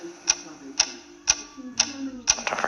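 Mysterious ticking in the game Incredibox: five sharp, evenly spaced ticks about half a second apart over a faint musical hum, with a denser patter of clicks at the end.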